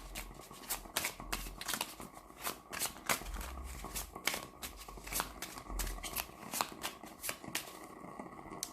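Oracle cards being shuffled by hand for a card draw, a steady run of crisp riffling and flicking slaps close up, with no talk.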